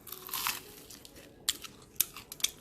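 A few crisp bites and crunchy chews of a freshly baked croissant, close and quiet, with short crackling bursts separated by pauses.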